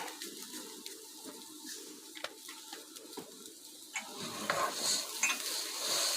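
Rice sautéing in a pan with salt, with soft scraping stirs and light sizzling, utensil clinks against the pan, growing a little louder and brighter toward the end.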